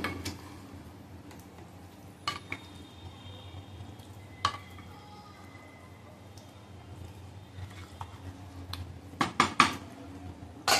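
Vegetable bhaji for Rishi Panchami being mixed in a pot, with occasional metal spoon clinks and scrapes against the pot edge, a cluster of sharper knocks near the end, over a quiet background.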